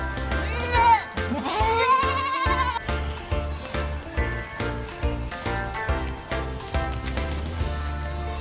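Young goat kids at a school animal farm bleat loudly and repeatedly, several overlapping cries rising and wavering over a busy background.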